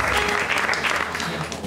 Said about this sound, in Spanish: El aplauso tímido, tímido